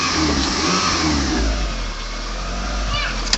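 A 2000–04 Mitsubishi Eclipse four-cylinder engine runs, fitted with a temporary motor mount, giving a steady low hum close by, with a faint rise toward the end.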